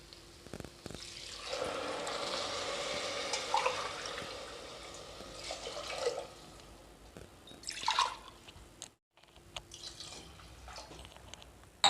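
Water pouring into rice in a cooking pot, splashing and trickling in uneven bursts, near and fairly faint, with a short silent gap before pouring resumes.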